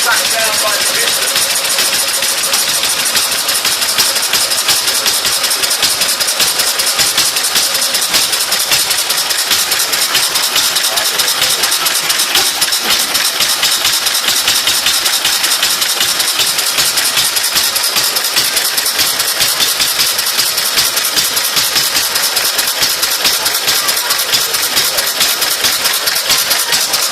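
An old engine runs steadily and loudly, its inlet valve drawn down by the piston, making a dense, continuous mechanical clatter and hum with a fine rapid rattle throughout, unchanging from start to end.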